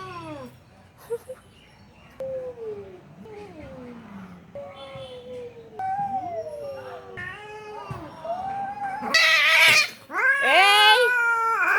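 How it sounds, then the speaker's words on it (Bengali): Cats caterwaul in a fight: a series of drawn-out, wavering yowls that rise and fall, growing louder until a harsh, screeching outburst near the end, close by. "ওই বিড়ালটার ভীষণ সাহস। এই কোথা থেকে আসলি তুই?"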